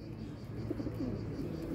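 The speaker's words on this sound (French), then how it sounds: "Oh là là, les pigeons, c'est horrible." Pigeons coo steadily in low, soft rounded calls over a continuous background rumble, close and moderately loud with no gaps.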